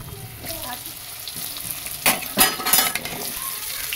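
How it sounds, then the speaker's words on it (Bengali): Oil sizzles steadily in a pan, with a few louder crackling bursts and stirring clinks as dried chillies and five-spice hit the hot oil left from frying hilsa fish heads. "এই তেলের মধ্যে মানে ইলিশ মাছ মাথা ভাজার তেলের মধ্যে আমি 2টো শুকনো লঙ্কা দিয়ে দেবো"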